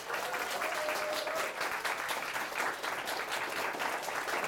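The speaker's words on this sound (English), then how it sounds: "So if you can give her a clap." A university audience at a game jam's closing talk claps in a sustained, even round of applause that fills the room at close range without a break.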